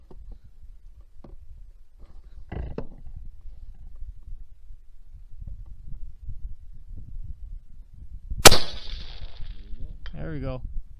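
A rifle shot fired at steel targets between 400 and 1,000 yards on an outdoor range, captured by a Tactacam FTS scope camera; one loud, sharp crack stands out near the end, with a fainter impulsive bang and low background rumble around it.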